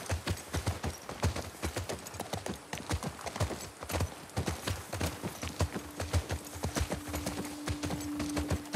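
Horse hooves clip-clop in a fast, steady rhythm throughout, close and prominent, as horses are ridden in The Last of Us Part II, with a faint sustained tone entering toward the end.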